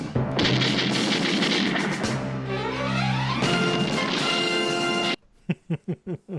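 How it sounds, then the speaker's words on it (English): Loud, rapid gunfire crackles and booms in a dense burst for several seconds, then gives way to a few separate sharp shots. "I go off line and return to the sound of gunshots."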